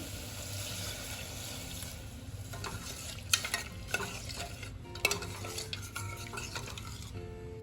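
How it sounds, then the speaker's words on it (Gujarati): Water is poured into a pressure cooker pan of farali khichdi seasoned with rock salt, a soft steady sizzle and wash of liquid with a few sharp metallic clinks of a spoon against the pot, close and fairly quiet. "અને હવે આપણે પાણી એડ કરીશું"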